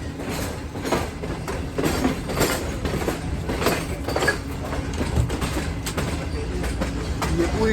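A Green Line Express train travelling from Islamabad to Karachi changes tracks near Lahore Junction, producing rhythmic clickety-clack wheel beats over continuous rumbling and rattling, heard loud and close from onboard.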